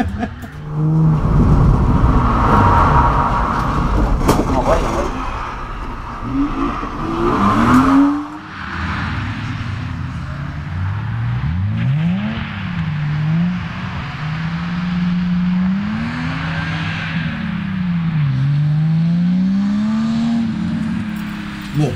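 A car drifts on the Lohéac track, its engine revving and swooping up and down in long sustained surges, loud and close throughout with no talk.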